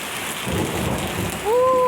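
Steady heavy rain with a deep rumbling swell of thunder after lightning, then a rising tonal whine near the end.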